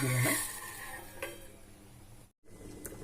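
Beetroot palya with soaked chana dal is stirred in a pan. Close metallic scraping and clinking of a utensil against the pan run throughout, strongest at the start, with a brief dropout near the end.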